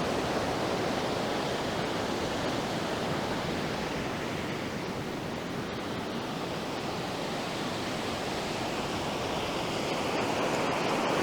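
Waves surge and wash steadily where a river meets the sea in Israel, a dense, continuous roar of surf heard close and loud with no voices.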